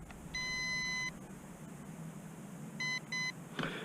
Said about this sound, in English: there was one beep and then two beeps. The single beep means that we are paired.